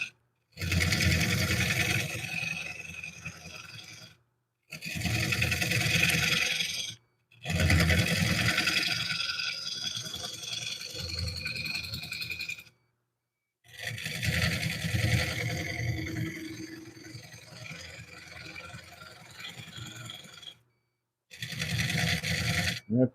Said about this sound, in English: That's my helmet making that noise you're hearing.